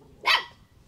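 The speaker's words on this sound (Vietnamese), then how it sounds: "Mấy con chó nó sủa ghê nha." A single sharp dog bark sounds once, loud and close, against a quiet background.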